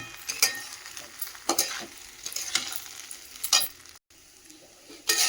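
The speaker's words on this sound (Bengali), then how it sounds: "এবারে ভালো করে চালটা ভাজবো" Rice being fried with cashews and raisins in a pan, with a steady sizzle broken by repeated scraping stirs of a spoon against the pan at close range.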